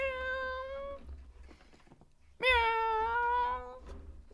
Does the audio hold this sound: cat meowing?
yes